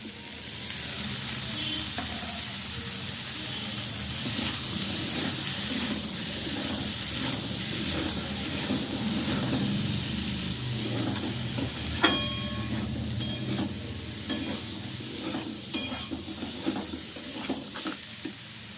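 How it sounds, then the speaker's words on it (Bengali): Boiled kohlrabi stir-fried with spices in a pan gives a steady, close sizzle and hiss, with stirring scrapes and sharper clinks of the utensil against the pan growing more frequent in the second half. "সেদ্ধ করে রাখা ওলকপিগুলো দিয়ে দিচ্ছি"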